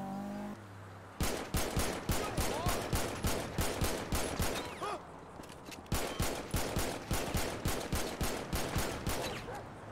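Video game gunfire in long, regular automatic bursts of loud evenly spaced shots, broken by a brief pause midway before firing resumes, with no talk.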